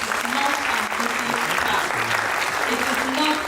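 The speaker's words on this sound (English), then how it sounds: "please give yourselves a round of applause." An audience at a sickle cell foundation event applauds parents and caregivers, dense, loud clapping that holds steady throughout.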